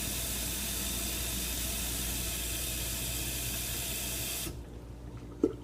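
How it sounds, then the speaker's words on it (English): Filtered water from a Katadyn Vario filter runs steadily into a container with a continuous hissing rush that cuts off abruptly near the end, followed by a faint knock. "Okay, let's fill up that other water container."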